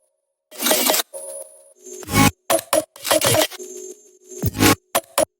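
Drum fills with layered effects in an Ableton remix: bursts of bright, crashing percussive hits and short clicky snaps come in irregular clusters, with brief tonal blips between them and no voices.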